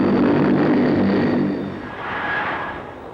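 An RAF aircraft engine roars loudly and close in archive film, then eases off and swells again as the plane passes.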